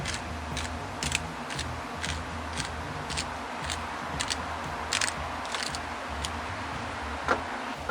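A pepper grinder cracks black pepper over raw ribs, a series of sharp crunchy clicks in irregular bursts, close and fairly quiet over a low steady background hum.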